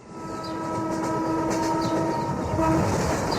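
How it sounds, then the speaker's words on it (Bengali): A train rumbles close past a bungalow and sounds a sustained horn, with rolling wheel noise swelling beneath it. "ট্রেন যায় একেবারে ওদের বাংলোর সামনে দিয়ে।"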